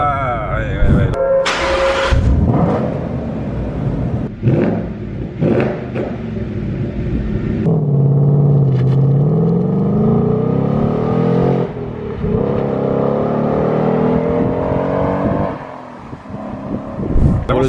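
A Ford Mustang GT V8 Bullitt cruises at highway speed, its engine and road rumble loud inside the cabin as someone talks over it and the engine note rises and falls.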